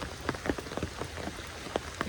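Heavy rain falls all day onto surfaces close by, a soft continuous patter with scattered sharper drips. No voices are heard.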